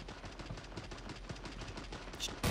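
Rapid, continuous gunfire in the shooter game Creative Destruction, with dense bursts that sound like automatic weapons, at a fairly even level and ending in a louder crack.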